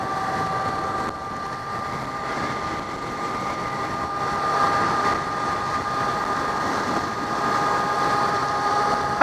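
Yamaha FZ6 motorcycle riding along a back road, its engine a steady, even drone with sustained whining tones, rising slightly in loudness midway, close and continuous with no talk.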